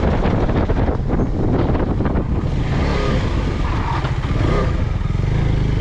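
A KTM-style race motorcycle on the MangoMoto time-attack track brakes and downshifts, its engine roaring loud and close under heavy wind rush that runs throughout.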